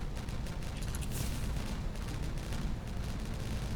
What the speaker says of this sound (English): All of the explosions.